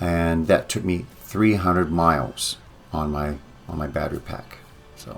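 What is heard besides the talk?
No everyday noises stand out.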